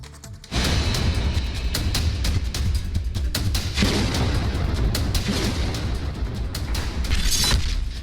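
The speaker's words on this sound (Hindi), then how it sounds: "दिल दहला देने वाला यह धमाका क्रीमिया में हुआ है" A sudden deep bomb blast erupts on a bridge linking Crimea and Russia, followed by continuous loud rumbling and crackling, with repeated sharp pops and booms throughout.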